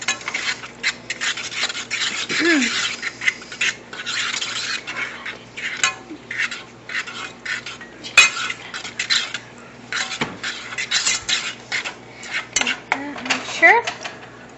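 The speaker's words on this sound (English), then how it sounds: "Now our chili's going. Turn that down a little bit. Stir it." Chili cooking in a pot, stirred with a metal utensil that scrapes and clanks against the pot in irregular bursts, fairly close, with a few brief voice sounds in between.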